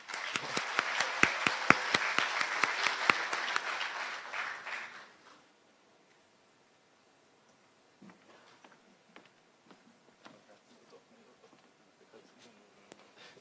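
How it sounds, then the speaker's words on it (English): Audience applause at a youth award ceremony, a steady crowd patter that tapers off after about five seconds, leaving a quiet room with scattered faint clicks and movement. "Round of applause"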